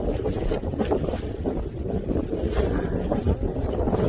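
Strong wind gusts outdoors in the countryside, buffeting the microphone with a continuous low rumble and roar that swells and eases, close and loud, with no talk.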